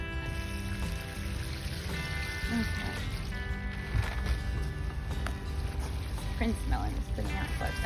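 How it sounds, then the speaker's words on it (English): Liquid fertilizer pours into a watering can in a rented garden plot, a steady close splashing and gurgling stream that runs throughout under people talking. "I'm just gonna pour some into this watering can and mix it."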